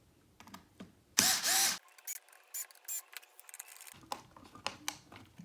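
A power driver on an RC car build, a Team Associated RC10 B6.3, snugs screws into plastic in several short, sharp whirring bursts separated by brief pauses, heard up close with no talking.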